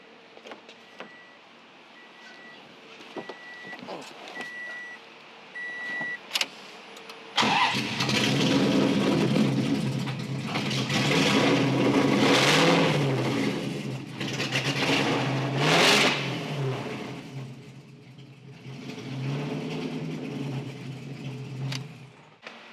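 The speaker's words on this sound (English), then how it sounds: "it is running and driving, so I'll start it up for you" A Toyota FRS fitted with a Ferrari engine cranks and catches after a quiet stretch, then idles roughly and revs up several times, loud and close, with no talking.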